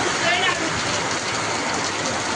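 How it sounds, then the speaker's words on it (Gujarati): Heavy rain pours down in Jetpur near a cotton field, a dense, constant hiss of downpour throughout, with a faint voice briefly audible near the start. "જેતપુરમાં વરસાદ, ધોમધાર વરસાદ."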